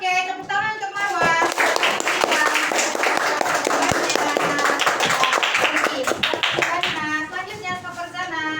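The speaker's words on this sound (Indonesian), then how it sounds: "Oke, tepuk tangan untuk Marwa." A classroom of children claps for a student, fast uneven hand claps filling the room, with voices and tonal singing or speech over the start and end.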